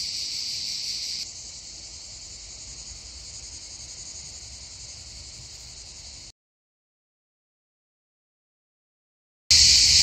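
Cicadas sing in a steady, hissing drone that shifts pitch slightly after the first second and then cuts off into silence, before a brief loud burst returns at the very end.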